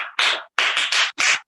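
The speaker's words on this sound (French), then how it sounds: "Applaudissez pour lui." Classroom applause for a student, a few short bursts of clapping by a small group, close and fairly loud, separated by brief silences.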